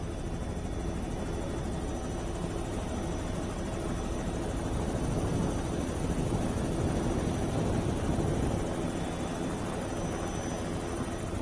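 Helicopter flying overhead showering flowers at a public commemoration in Mumbai, a steady broadband rotor and engine roar that swells slightly midway, loud and continuous with no talk.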